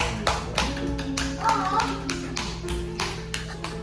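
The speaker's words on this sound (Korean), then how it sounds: "박수, 박수 주고 주고" Family members at a 70th birthday celebration on a trip to Jecheon clap together in a steady, rhythmic round of applause, close by and continuous.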